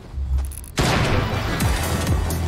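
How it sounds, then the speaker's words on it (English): Video game gunfire erupts after a quiet moment: a sudden loud burst followed by sustained rattling shots and crunching impacts. "why are you shooting him?"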